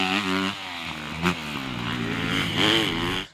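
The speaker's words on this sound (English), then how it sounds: "this bike sounds a lot beefier and throaty" A 2025 Honda CRF250R dirt bike with its stock muffler runs close by, its throaty four-stroke engine idling and blipping through a couple of rising revs before cutting off.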